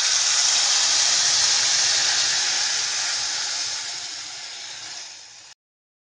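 Milk poured into a pan of vermicelli roasted brown in ghee, giving a loud, steady hiss and sizzle that holds for about five seconds and fades slightly before stopping abruptly.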